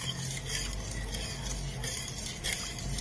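Gelatin being stirred until it dissolves while making a choco jelly cake, a soft steady swishing and scraping of a utensil in a container, close and continuous.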